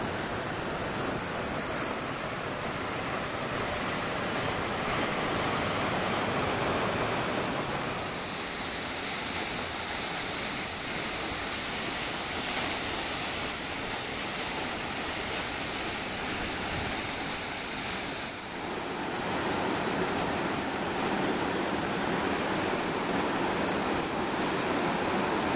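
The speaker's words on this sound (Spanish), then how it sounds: "Cascadas de Oneta, Villayón, Oneta." Cascadas de Oneta in Villayón, western Asturias: a steady, full roar of falling water runs unbroken throughout, loud and broadband like continuous rushing spray, with no voices.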